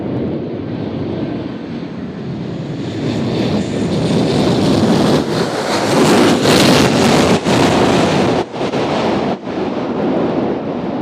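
An Alaska Airlines jet at Nashville International Airport roars loud and close, rising to a broad, rushing peak over about eleven seconds, with gusts of wind buffeting the microphone.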